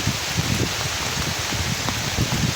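Heavy rain pours steadily at a rural farm path, a dense continuous hiss with scattered close drops pattering on leaves and surfaces, no voices.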